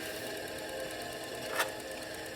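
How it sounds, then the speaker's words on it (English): A grinder runs at low RPM during a rebuild of a 1976 Harley-Davidson Shovelhead 4-speed transmission, making a steady, faint, even whir with one brief scrape partway through. "I'm keeping the RPM down on the grinder so you get more accurate grind and you don't have much heat"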